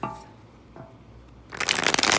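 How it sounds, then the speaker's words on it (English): Tarot cards shuffled by hand, a quiet pause and faint tap giving way to a loud, close burst of rapid riffling and flapping that lasts well under a second. "One more shuffle for you guys."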